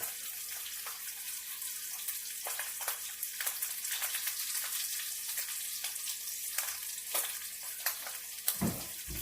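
Bacon sizzles steadily in a pan as a soft, continuous frying hiss, with scattered light clicks and a sharper utensil knock near the end; no one talks.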